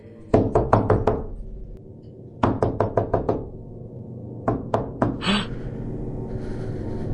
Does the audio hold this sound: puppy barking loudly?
no